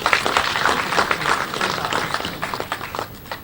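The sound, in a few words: audience applause at conference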